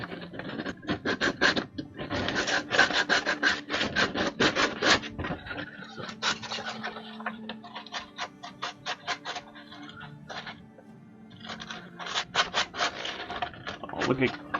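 Hand sanding of small cut-out wooden penguins, a stack of them, to knock off burrs left from cutting: bursts of rapid scratchy rubbing strokes, close and fairly loud, pausing briefly and resuming, with occasional voices nearby.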